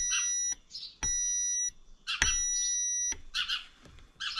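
A multimeter continuity tester gives high-pitched electronic beeps in several sustained bursts of about half a second to a second, with clicks and small handling noises between them, while testing Yamaha DT175B stator wiring.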